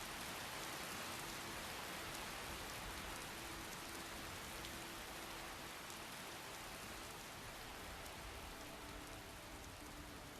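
Rain falls in a video game, a steady, dense hiss of heavy downpour that stays constant and loud throughout, with no talking.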